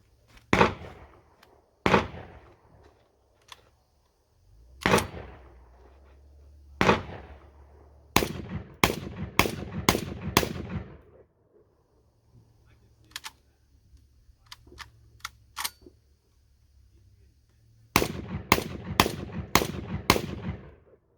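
Black Aces FD12 bullpup 12 gauge shotgun firing outdoors, sharp loud blasts first singly and then in quick strings of four or five, with quiet gaps and faint handling noises between them.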